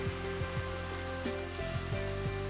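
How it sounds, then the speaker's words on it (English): Tomato puree sizzling in a frying pan, a steady close crackle with small popping bubbles and a low hum underneath, moderately quiet, with no talking. "Just fry it for a minute or so, and then I add the tomato puree."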